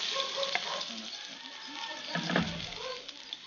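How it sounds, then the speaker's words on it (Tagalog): Onion sizzles in a hot pan while cooking a seafood breakfast, a soft, steady crackle and patter at low volume with faint stirring noises. "Lagyan natin yung onion muna sa init."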